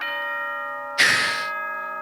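A bright chime from the video game Danganronpa: Trigger Happy Havoc rings out alone, one clear struck tone swelling briefly over a steady sustained synth note, loud and close.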